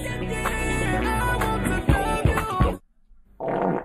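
A loud fart sound effect comes in over a music track, then the music cuts off, and after a short silence a second burst of the fart noise follows on its own.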